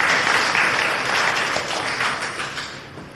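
Audience applause during a university memorial debate, a dense wash of clapping that swells briefly and then tapers off a little, heard alone without talk.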